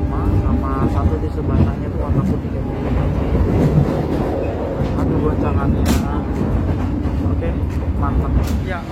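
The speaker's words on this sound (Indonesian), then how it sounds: "kereta api Mutiara Timur yang saya naiki tiba di stasiun Sidoarjo" Steady rumble and clatter of a Mutiara Timur long-distance passenger train running between Surabaya and Banyuwangi, Indonesia, heard from inside an economy carriage, loud and continuous, with a voice talking over the din.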